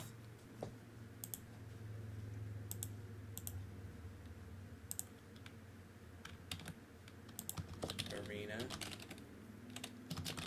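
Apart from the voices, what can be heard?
typing on a computer keyboard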